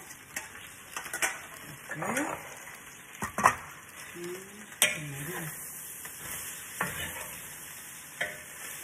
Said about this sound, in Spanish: Ahora vamos a revolver los nopales aquí con la carne.